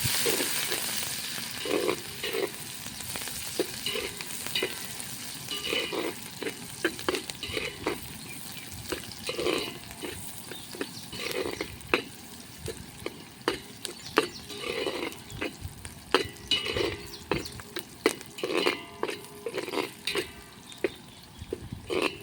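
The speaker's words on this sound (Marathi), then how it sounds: "कांदा आपल्याला असं चांगला कलसून घ्यायचा आहे." Chopped onion frying and being stirred in a pot on a Khandeshi clay wood-fired stove for khichdi, with steady sizzling broken by repeated scraping stirs through the whole stretch, moderately close.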